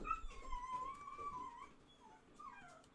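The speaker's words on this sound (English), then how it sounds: "Don't mind my dogs howling away." Pet dogs howl and whimper indoors in a wavering, drawn-out tone that rises and falls across three seconds, with a brief pause before a final yelping wail, moderately loud and close with no talking over it.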